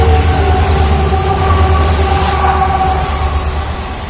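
The Mahalaxmi Express rumbles steadily and loudly, heard from inside a general coach as a continuous low roar of wheels and carriages with no talk.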